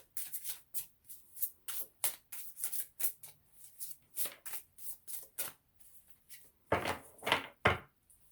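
A deck of oracle cards shuffled by hand, with rapid riffling bursts in a steady rhythm, close and fairly quiet, ending in a few louder slaps and flicks.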